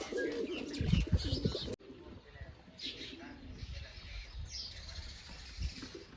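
Pigeons coo softly near a rooftop, faint against handling noise and light background sound, with people talking intermittently.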